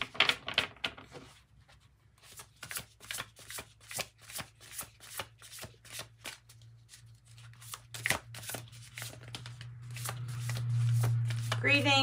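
Tarot and spellcasting cards are shuffled by hand in quick, crisp riffling bursts and taps, close up, with a steady hum underneath.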